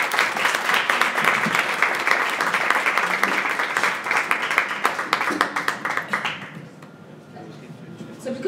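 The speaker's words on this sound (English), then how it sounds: "Let's give him another round of applause" A crowd gives a sustained round of applause for a man called up to the platform, thick and loud for about six seconds before tapering off into a quiet room with a voice beginning to speak.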